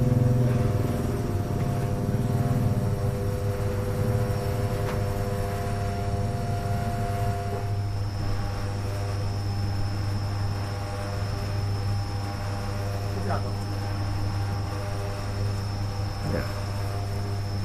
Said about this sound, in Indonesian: berapa kecepatan pengaduan bahan menggunakan mesin pengaduk ini ya